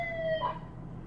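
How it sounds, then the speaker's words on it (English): A boy's toy siren wailing in a store parking area, a short rising electronic whoop heard once, fairly clear over low background noise. "Oh, some little boy with a siren."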